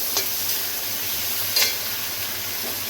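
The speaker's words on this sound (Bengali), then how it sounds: "দেখুন পেঁয়াজটা হালকা করে ভেজে নিয়েছি।" Onions frying in a pan for a Bengali egg chili, a steady close sizzle with a couple of brief scraping stirs, no voices.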